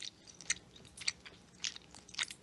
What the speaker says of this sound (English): That chewing is not me, but I am also chewing at the same time.